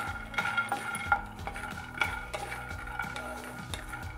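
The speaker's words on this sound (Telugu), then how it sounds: "ఇవి కూడా చక్కగా రోస్ట్ చేసుకోవాలి." Peanuts roasting in a dry pan, stirred with a metal spatula that scrapes and clinks against the pan in irregular strokes, close and moderately quiet, with the nuts rattling and shifting between strokes.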